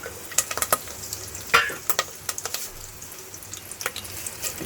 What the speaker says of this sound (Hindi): अब हम इसमें कड़ी पत्ता डालेंगे, फिर लाल मिर्च और ये लहसुन,